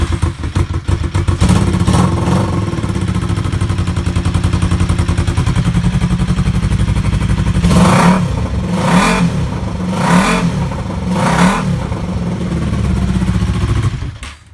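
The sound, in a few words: bobber motorcycle engine revving with loud exhaust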